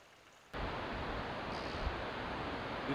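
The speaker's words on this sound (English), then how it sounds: "the sound of the waterfall will be too loud to talk to you" Waterfall near the Jøkelfjord Glacier: a steady, dense broadband roar that starts abruptly and then holds constant and loud, with no talking over it.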